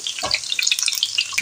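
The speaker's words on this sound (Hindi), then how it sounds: "तो इसको 1 मिनट के लिए फ्राई कर लेते हैं।" Vegetables for navratan handi frying in a pan, a brief close sizzle with fine crackles and a few quick scraping stirs, heard alone.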